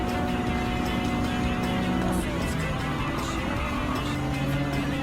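An old JDM car drives the Tokyo Expressway city course in Gran Turismo 7, its engine drone steady and loud with the pitch shifting through gear changes, while a voice talks over it.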